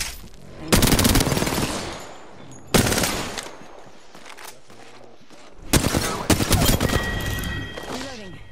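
Video game gunfire rattles in three loud bursts of rapid automatic shots separated by short pauses, with a voice heard faintly in between.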